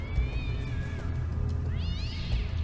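A cat meows in the video game Tesla Effect, two drawn-out rising and falling calls with a short pause between them, heard clearly over a low background hum.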